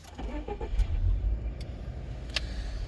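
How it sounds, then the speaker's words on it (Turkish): A Subaru XV's engine starts with keyless ignition, giving a brief low rumble and crank that settles into a quiet, steady idle, with a couple of faint clicks afterward. "Arkadaşlar çalıştıralım arabamızı."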